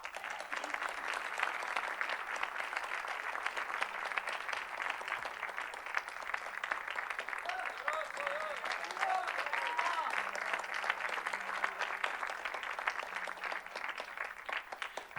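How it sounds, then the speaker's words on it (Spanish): Church congregation applauding together, a dense, steady wash of clapping that holds at an even level throughout, with a faint voice threading beneath it. "denle aplauso a Cristo."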